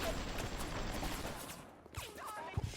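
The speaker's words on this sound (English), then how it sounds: "As you can see, the turret helping a lot here." Rapid automatic fire from a turret machine gun in BioShock, a dense, sustained rattle of shots in the first part, then scattered bangs and game sounds.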